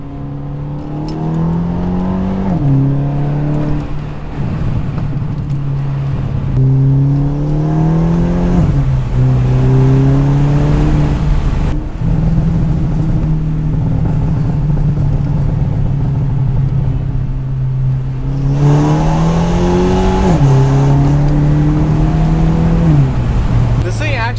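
A Stage 2 tuned Mercedes C300 engine drones loudly from inside the cabin, rising through the gears with repeated upshifts and throttle surges, with occasional talk underneath.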